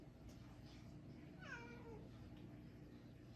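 A pet cat gives a single drawn-out meow, fairly faint and indoors, over a low steady background hum.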